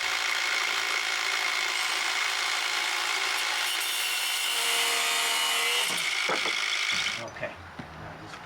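A power drill runs into wood while building an outdoor walkway, a loud continuous high whine for about seven seconds before cutting off, followed by a few knocks.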